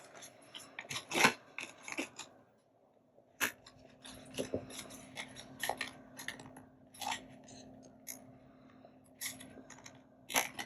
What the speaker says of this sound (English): Okay, I'll take my scissors.